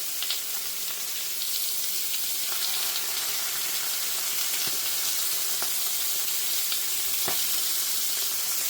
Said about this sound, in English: Lay it away. Let them sear. Do not touch them.